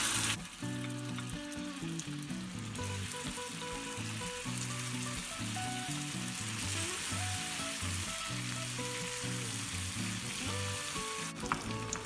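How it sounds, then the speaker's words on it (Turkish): Two tablespoons of butter added to melted sugar for a caramel milk dessert, giving a steady, loud, close sizzle and bubbling that runs without a break from start to finish, with no talking. "Şimdi içerisine 2 yemek kaşığı ayarlamış olduğumuz tereyağını ekliyoruz."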